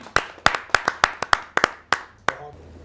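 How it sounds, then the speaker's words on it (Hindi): At a Hindi poetry gathering, about ten sharp, close hand claps land at a fairly even beat over a few seconds, then stop, leaving a quiet tail. "आपके जोरदार तालियां मिले श्री आदेश त्यागी जी"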